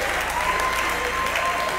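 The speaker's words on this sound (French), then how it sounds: "On applaudit pour Rabbi." Audience applause at a talent show semi-final, a loud continuous wash of clapping from a crowd filling the whole moment.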